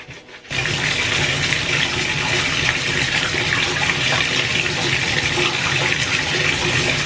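Tap water runs steadily and loudly from a faucet while hair is being washed with a new hair care shampoo, a continuous broadband rush that starts abruptly after a brief quiet moment and holds without pause.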